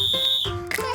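A toy whistle gives a short, shrill, steady tone, blown close and loud in a pretend-play scene with a surprise egg.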